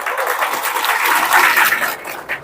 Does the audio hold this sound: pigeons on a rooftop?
no